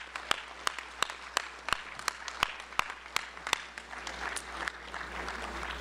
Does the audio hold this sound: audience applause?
yes